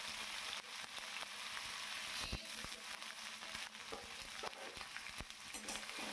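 Raw washed mung dal frying in hot oil for a ridge gourd dish, a soft continuous sizzle broken by frequent sharp scraping and clacking stirring strokes at an irregular pace, fairly quiet overall.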